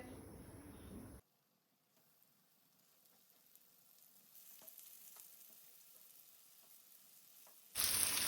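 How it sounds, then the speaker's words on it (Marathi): Rava-coated okra slices laid into hot oil on a pan, a faint crackling sizzle that slowly builds, framed by louder bursts of noise at the start and end. "रवो लावन घेतल्या त्यो फोडी आतां आमकां तव्यार घालपाक जाय"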